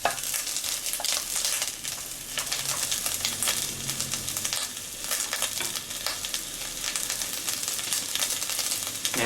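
Collard greens fry and stir in a pan over medium heat, giving a steady, dense sizzle with scraping stirs throughout, close and fairly loud, with no talking.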